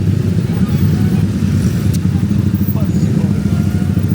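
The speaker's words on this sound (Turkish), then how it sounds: "Motor ağzımızın içinde bu arada ve yoldayız." A motorcycle on a Jakarta street passes very close, its engine a loud, steady, rumbling drone throughout, with people talking over it.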